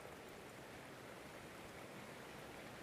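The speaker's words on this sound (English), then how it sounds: "This water is loud." Flowing water in the Skyrim video game makes a steady, even rush, a dense hiss with no breaks, heard alone without voices.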